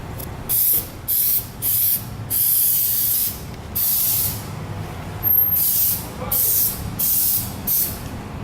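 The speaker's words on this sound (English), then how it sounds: "I'm spraying the door seam and the hinges" A car's door seam and hinges get short, repeated hissing blasts of RustCheck rust-proofing spray, about nine close, loud bursts in a steady on-off rhythm with no talking.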